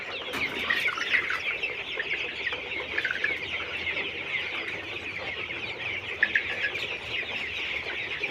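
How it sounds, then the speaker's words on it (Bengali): Colorbird chickens in a crowded poultry shed cluck and chatter continuously while eating, a dense, busy flock murmur with frequent sharper squawks rising above it, close and fairly loud with no talking. "দেখেন কত সুন্দরভাবে মুরগিগুলো খাবার খাচ্ছে।"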